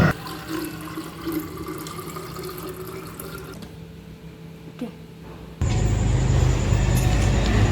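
Water running with a steady hiss under a faint background hum, then abruptly louder and fuller as a stronger gushing flow starts near the end.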